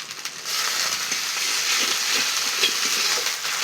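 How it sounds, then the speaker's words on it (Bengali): Onions sizzle steadily in hot oil, a continuous crackling hiss close by, with faint scraping from stirring. "পেঁয়াজগুলো আমার ভালোভাবে ভাজা হয়ে গেছে এবার দিয়ে দেবো আদা"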